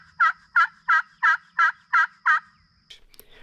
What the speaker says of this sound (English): the male turkeys gobble and strut